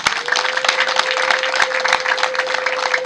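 Wedding guests clap together in a steady, dense round of applause, with a few sharper single claps standing out in the mix. A faint tone hums underneath.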